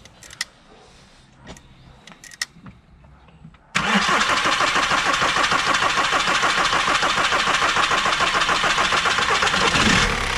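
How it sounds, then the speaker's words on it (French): A warm VW/Audi 1.9 TDI diesel engine cranks and fires after a few quiet clicks, then settles into a loud, steady idle for the rest of the stretch, with no talk over it. "Tu peux démarrer un coup, voir. Donc là elle est chaude, déjà on vient de rouler et tu vas voir que le démarrage est lamentable"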